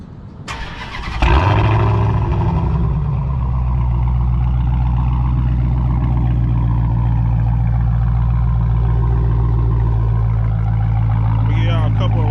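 A Dodge Challenger Hellcat Redeye's engine cranks briefly and catches about a second in, then settles into a steady, loud, rumbling idle; the engine is already warm.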